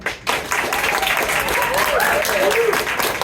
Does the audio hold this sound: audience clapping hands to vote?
yes